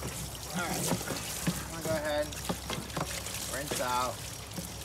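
Water splashes and trickles as it pours through a plastic cooler being rinsed out, in short bursts mixed with someone speaking.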